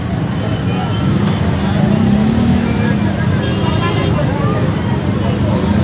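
Heavy, near-jammed road traffic mixes with a crowd at a PTI rally near Lahore: a dense, loud wash of engine rumble and overlapping voices, with passing vehicle whines and scattered horn-like tones.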